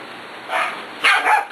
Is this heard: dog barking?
yes